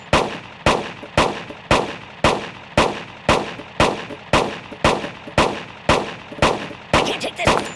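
Firearms shooting in the mobile game Kick the Buddy: a steady series of about thirteen sharp, loud gunshots at a regular rhythm, each ringing off briefly, with no talk over them.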